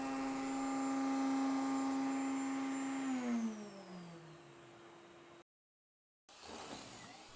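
A Kreg router with its bit at speed machines wood workpieces, giving a loud, steady motor whine that then winds down in falling pitch. After a short silence, a brief burst of noise follows.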